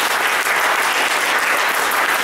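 An audience gives sustained applause for school youth at the Polish poetry contest "Wielcy Nieobecni", a thick, even clapping that fills the hall without pause from start to finish.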